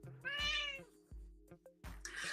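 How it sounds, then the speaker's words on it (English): A house cat meows twice, loud and close, with a soft bumping between the calls. "This cat got me distracted."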